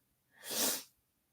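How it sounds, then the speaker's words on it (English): A single sharp allergy sneeze, breathy and hissing, rises and fades within about half a second, close to the microphone in an otherwise quiet room. "I'm sorry about my nose, everybody, and the sneezing. Allergies."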